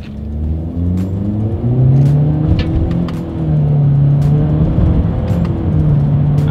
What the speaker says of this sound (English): Let's do a quick little paddle shifter test here, and let's see how quickly they react for us.